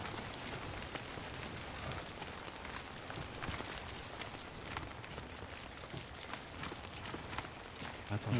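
Rain keeps falling in the video game Death Stranding, a low, continuous patter of drops with faint crunching steps mixed in as a character moves through the wet area.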